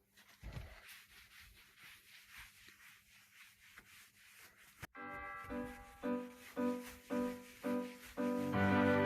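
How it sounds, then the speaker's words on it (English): A soft microfiber towel wipes cracked leather on a car seat after a shoe-cream repair, giving faint rubbing strokes that turn into louder, rhythmic back-and-forth swipes partway through. "Now I go to clean it with some soft, fluffy microfiber towel."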